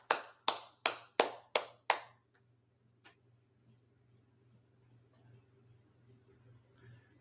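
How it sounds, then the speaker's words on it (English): Five quick, crisp hand claps in a steady rhythm, close and loud, then one lone clap after a pause, with only faint low background noise afterward. "I gotta clap too"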